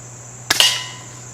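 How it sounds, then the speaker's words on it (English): A single sharp crack of a Colibri round fired from a gun at cans, short and close with a quick tail, in otherwise quiet surroundings with a low steady hum. "We're going to shoot the Colibri again first."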